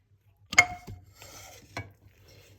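A frying pan is handled in a home kitchen while preparing a no-oven cake, giving two or three sharp metallic clanks and scrapes close by with short quieter rattles between them and no talk.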